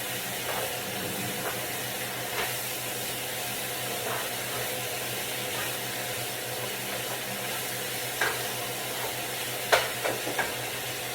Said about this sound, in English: now I'm mixing up the ground beef.